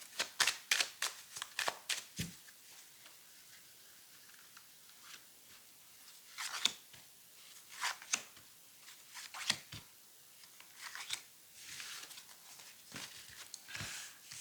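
Tarot cards shuffled for a reading, with repeated close riffling and flicking bursts of varying length, some quick and rapid, others sparse, with short gaps between, no speech.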